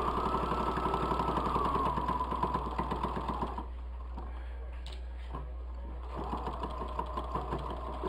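A sewing machine stitches a fabric bowl cosy with a close, rapid rhythmic whirring that pauses for a few seconds midway, with faint handling clicks, then resumes.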